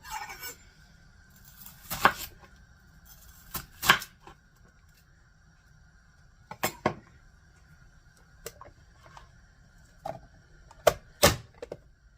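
Knife chopping red onion on a board for a pasta salad: a handful of sharp, separate cuts spaced irregularly with short pauses, close and fairly crisp against a quiet background.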